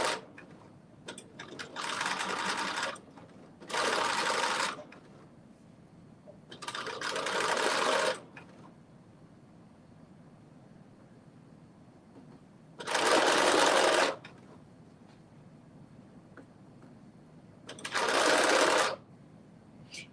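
A sewing machine stitches ruffles in bursts, several loud whirring runs of a few seconds each separated by quiet pauses, close and with no talk over them.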